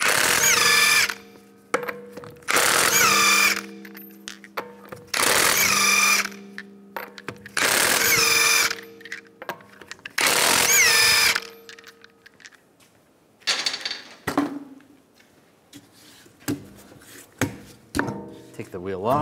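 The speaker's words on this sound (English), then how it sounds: "We're gonna remove the wheel, use a 19 millimeter socket, take the lug nuts off." An impact wrench with a 19 mm socket spins lug nuts off the rear wheel of a 2015-2019 Lincoln MKC, five loud close rattling bursts separated by pauses, followed by lighter clinks and handling noises.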